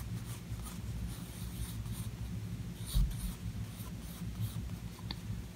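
Pencil scratching across sketchbook paper in continuous strokes, with soft rhythmic scraping and a few sharper marks, close and quiet.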